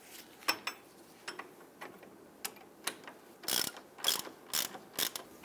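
A hand ratchet snugs down the lower ball joint nut on a 2000-2006 Toyota Tundra's front lower control arm, giving sharp clicking strokes in short runs, then a faster cluster of louder, close ratchet bursts.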